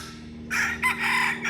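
A single rooster crows loud and close, one drawn-out crow over a steady low electrical hum, with no talk.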